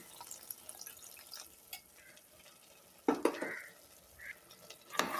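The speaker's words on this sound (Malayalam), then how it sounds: "ഇനി ഇതിലേക്ക് കുറച്ച് വെള്ളം ഒഴിച്ച് കൊടുക്കാം" Water is poured into a pan of beef curry base with spices, mostly quiet, then a sudden splashing burst with sizzling and stirring, and a brief final splash, with no talk.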